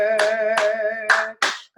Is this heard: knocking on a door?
no